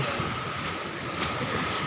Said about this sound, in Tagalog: Ang galit na galit yung alon, ah.